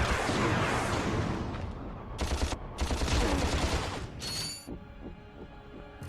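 Rapid blaster gunfire in the 2002 Ratchet & Clank video game, a dense continuous barrage of loud shots with brief pauses and mechanical weapon clatter.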